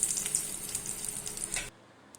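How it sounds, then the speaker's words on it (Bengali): Dried red chilies fry in a little hot oil with a close, crackling sizzle that carries on steadily, then cuts off abruptly, leaving near silence. "শুকনো মরিচগুলোকে খুব সুন্দর করে ভেজে শুকনো মরিচ নামিয়ে নিব"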